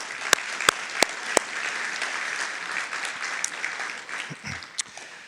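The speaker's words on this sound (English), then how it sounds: "Round of applause for all of them," Banquet audience applauds in a sustained round of clapping from a crowd indoors, with a few sharp, louder claps standing out near the start and toward the end as it gradually thins.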